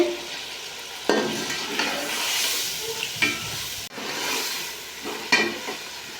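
Half a kilo of chicken frying in butter in a pot, a steady sizzling hiss broken by several louder stirring scrapes, close up with no talking.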